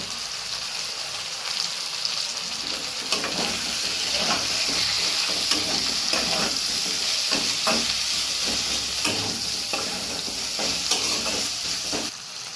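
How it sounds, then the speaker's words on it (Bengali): Tomatoes and onion tipped into a pan of frying katla fish, a lively close sizzle with hissing steam and repeated stirring scrapes and taps of a spatula, steady throughout with no talk. "এইবারে আমি টমেটোগুলো এর মধ্যে দিয়ে দেবো।"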